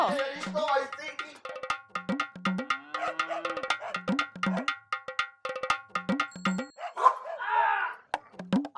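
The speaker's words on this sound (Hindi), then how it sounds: "ये देखो बिजी पांडे फिर से भौंक रहा है" A pet dog barks repeatedly in quick, rhythmic bursts, loud and close, with a short whine or voice near the end.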